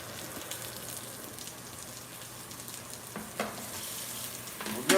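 Garlic and onions fry in a hot pan for hamburger steak, a steady soft sizzle and crackle running throughout, with a louder clatter of stirring toward the end.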